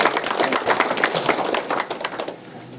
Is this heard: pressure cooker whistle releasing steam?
no